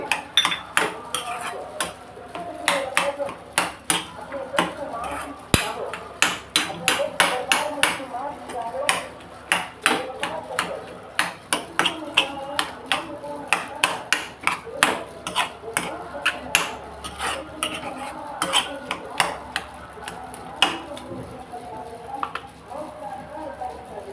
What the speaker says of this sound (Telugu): మొత్తం నాలుగు పక్కల శుభ్రంగా కలుపుకుంటూ ఉంటే అలాగే తోటకూర కొన్ని ముక్కల్ని స్మాష్ చేసుకుంటే